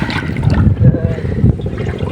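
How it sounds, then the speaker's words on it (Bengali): River water from the cold Yamuna splashes and gurgles as it is drawn into a clay pot, with close sloshing and trickling under a nearby voice. "পানি তোলা হচ্ছে এখন।"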